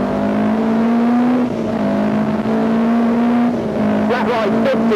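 A rally car on a stage of the 1987 Ulster Rally, driven very fast. Its engine roars loud and close in a steady high drone with brief dips at gear changes, and a voice is partly heard under it.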